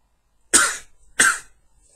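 Two sharp coughs, close and fairly loud, about half a second apart, with quiet in between.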